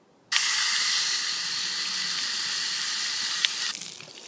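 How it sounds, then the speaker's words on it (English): A garden hose sprays water in one sudden, steady hissing rush that starts abruptly, runs evenly for a few seconds, then cuts off, close and fairly loud with no voices. "the garden hose."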